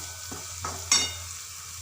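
Spatula scraping and stirring green pea poha in a hot pan, a few distinct strokes over a steady low sizzle, close and fairly quiet.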